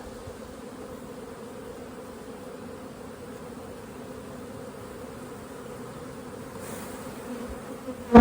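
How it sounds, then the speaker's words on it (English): Bees buzzing steadily around a full honey hive, a continuous low drone heard fairly close and alone, ending in a brief loud knock. "This hive's full right to the top."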